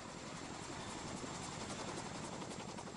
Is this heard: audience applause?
no